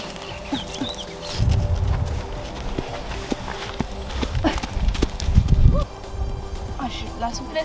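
A horse walks bareback with hooves clip-clopping in a steady rhythm, close and moderately loud, alongside scattered bird and farm sounds.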